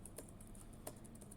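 Quiet keystrokes on a computer keyboard, a quick run of light clicks with two slightly firmer taps, close and faint with no talk.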